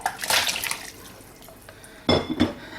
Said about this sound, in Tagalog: So, ilagay lang natin yung ating pork